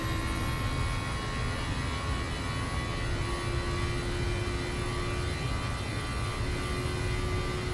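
Boeing 737 jet engines run at takeoff power in Microsoft Flight Simulator X, producing a steady, droning roar with a high whine layered over it.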